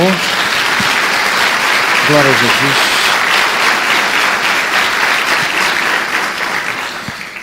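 A church congregation applauds loudly and continuously, a dense wash of many hands that fades slightly toward the end, while someone speaks briefly at the start.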